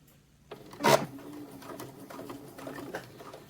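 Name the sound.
sewing machine stitching a seam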